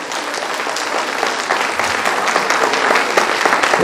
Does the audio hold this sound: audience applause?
yes